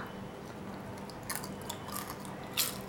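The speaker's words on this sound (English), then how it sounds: "I taught her how to make an audible crunch" Crunchy cumin-seasoned Chinese potatoes are bitten and chewed close up, with a few sharp crunches standing out over quiet mouth sounds, the loudest crisp bite near the end.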